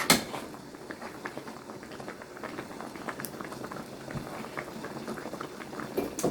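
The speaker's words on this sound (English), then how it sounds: "our cucumbers and onions are boiling in the brine" Cucumbers and onions boil in pickle brine in a pan, a steady close bubbling and popping with a continuous soft liquid hiss throughout.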